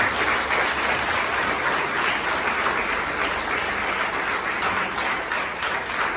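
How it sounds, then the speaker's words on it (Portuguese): A church congregation breaks into sustained applause during a worship service, a dense, even roar of many hands clapping together, loud and continuous for the whole stretch with no talking over it. "Aplauda o Senhor Jesus, que Ele merece."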